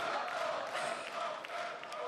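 A French crowd at a 2015 League of Legends World Championship group-stage event roars and applauds steadily, a dense wash of cheering and clapping that fills the whole stretch with a faint voice underneath.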